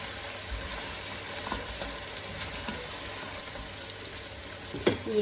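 Food being stirred in a frying pan, a steady hiss of frying with soft scraping strokes and a sharper clatter near the end, no voices.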